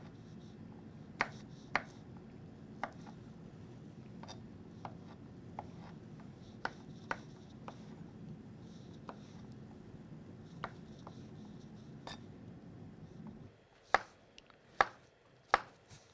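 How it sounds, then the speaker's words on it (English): Knife chopping green peppers and mushrooms into small pieces for a pizza topping, a steady run of sharp, separate taps on a cutting board over low background hum, ending with a few louder, closer chops. "cut them into smaller pieces for a pizza topping"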